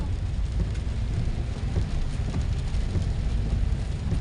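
Heavy rain pours steadily during a flood in General Santos, a dense continuous wash of water with low rumbling underneath, loud and unbroken throughout.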